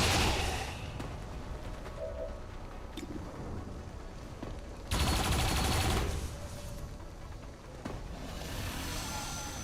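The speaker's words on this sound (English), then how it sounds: "we can use the turrets first" Turret gunfire in XCOM 2 during an Avenger Defense mission: bursts of game weapon fire over a dense battle background, with a louder, heavier volley near the middle and steady crackle around it, no talking.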